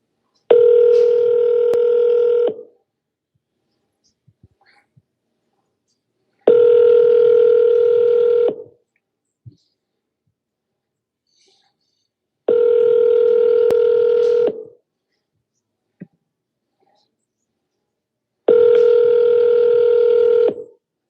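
Telephone tone on an outgoing call, sounding in four steady, loud bursts of about two seconds each, separated by silent gaps of roughly four seconds, with a few faint clicks in between.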